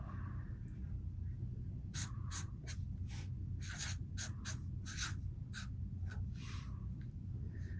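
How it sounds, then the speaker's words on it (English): Marker writing on a craft card: a run of short squeaky strokes, close and clear, in irregular bursts over a low steady room hum. "let's try it with a marker. We're just going to write hello."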